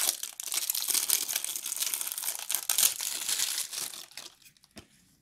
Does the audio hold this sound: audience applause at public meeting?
no